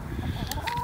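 Chickens in their new pen give a brief burst of clucking, a few short, close calls over low background noise, with no voices.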